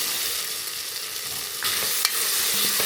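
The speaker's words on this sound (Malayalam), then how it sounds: "ഇതിൽ കുറച്ച് നെയ്യ് ഒഴിച്ച മോളെ" Ghee sizzles in a pan, a steady close frying hiss with a brief clink near the end, no voices over it.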